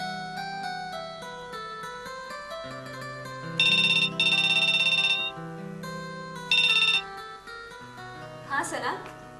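A telephone ringtone plays in a PTV home drama scene, repeated electronic melodic bursts rising and falling over several seconds, fairly clear against a quiet room.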